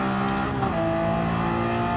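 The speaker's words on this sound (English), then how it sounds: "you can hear the turbo on this" A turbocharged car engine pulls steadily under acceleration, a continuous close drone with a faint turbo whine riding on top, loud and unbroken for two seconds with no talk.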